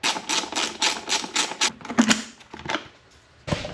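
A plastic panel is pried off a motorcycle, giving a rapid series of close clicks and snaps in a quick rhythm, then a few sharper pops and a final knock.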